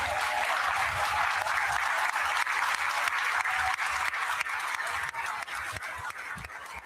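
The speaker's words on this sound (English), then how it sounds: "please stand and be recognized with a round of applause" A Williamsville South High School graduation audience applauds the standing alumni. The clapping is broad and sustained, coming from a large crowd filling the hall, and eases off slightly at the end.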